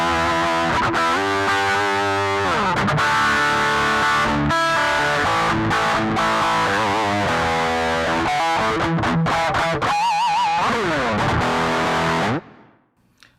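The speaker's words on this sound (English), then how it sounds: "we are going to start off with the Rocket Distortion pedal." Electric guitar through a Rocket Distortion pedal, loud gritty chords and fast riffs played continuously, ending with an abrupt cutoff, no one speaking.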